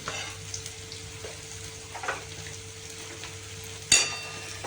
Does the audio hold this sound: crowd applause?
no